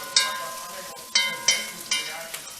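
Vegetables for curry tofu get stirred in a hot frying pan, four or five scraping pushes of the utensil over a soft steady sizzle, close and clear.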